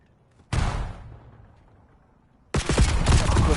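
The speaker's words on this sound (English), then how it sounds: "Swift is ready for the gunfight with Verkzy" Gunfire in a competitive video game match: a sharp burst at first that fades into a tail, then after a pause a sustained loud volley of rapid shots.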